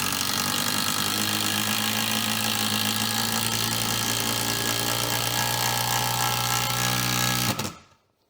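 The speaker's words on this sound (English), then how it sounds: "we have the DCF 801 1/4 inch impact driver in 12 volts" A DeWalt DCF801 1/4 inch 12 volt impact driver runs continuously at close range, a loud steady buzzing hammer whine that holds for several seconds and then stops abruptly near the end.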